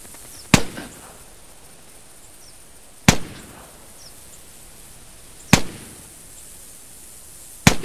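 Four sharp .22 rifle shots from theHunter video game crack out at slow, evenly spaced intervals, each a loud isolated bang with a short tail over quiet background.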